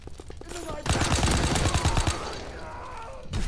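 Automatic gunfire in the Call of Duty WWII beta, a rapid close burst of shots lasting about a second and a half after a brief lead-in, with more firing returning at the end.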